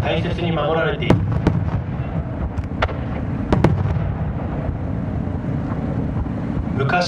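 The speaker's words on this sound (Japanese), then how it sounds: "線香花火のような暗いオレンジ色の花火、わび" Traditional dark orange 'wabi' fireworks at the Omagari fireworks festival in Japan burst in several sharp, loud cracks and booms, spaced irregularly over a steady rumble of wind on the microphone.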